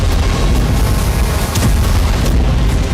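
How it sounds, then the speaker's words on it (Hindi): A kamikaze drone strike on a battlefield explodes in a loud, sustained deep rumbling boom that fills the whole moment with heavy low roar, no voices. "कभी कामिकाज़े ड्रोन से हो रहा धमाका।"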